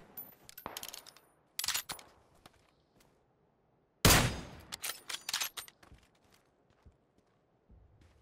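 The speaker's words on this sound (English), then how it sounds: "Where are they shooting?" Gunfire in PUBG, separate loud bursts of rapid shots with quiet gaps between them, some sharp and near, others fainter and farther off.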